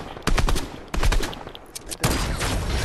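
Bursts of automatic gunfire in a video game duos match, several rapid volleys with brief pauses between them, loud and close, ending in a sustained stretch of shooting.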